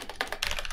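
Keys on a computer keyboard running Windows 10 are pressed in a quick cluster of close, sharp clicks, as for the Windows+Space shortcut, all within under a second.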